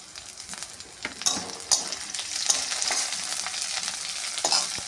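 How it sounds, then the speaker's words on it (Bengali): Chopped ginger and green chilli fry with onion in a pan for lentil khichuri, a steady sizzle broken by sharp spatula taps and stirring scrapes against the metal. "এবারে দেবো আদা কুচি"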